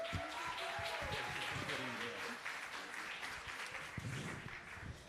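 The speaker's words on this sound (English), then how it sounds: "let's give a round of applause for Ma'ohi Notenata." Applause from an audience at a Tahitian dance group competition, with clapping and cheering, while a voice speaks over it.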